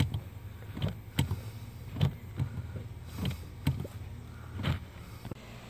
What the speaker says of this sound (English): we want to get in here and we want to pump these brakes back up